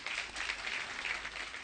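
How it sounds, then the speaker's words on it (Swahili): Audience applause breaks out for Doc SK Macharia, a football coach being honoured at a gathering, a steady wash of many hands clapping that stays dense and even for under two seconds with no voices on top. "Tumpigie makofi."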